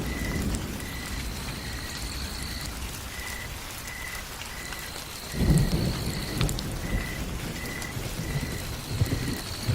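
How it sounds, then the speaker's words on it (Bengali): Rain and thunder roll through an afternoon storm near a tea stall, a steady downpour with low rumbles that surge loudly midway before settling, with no talking. "বিকেলবেলা বেশ ঝড় শুরু হলো। বৃষ্টি থামার কোনো নামই নেই।"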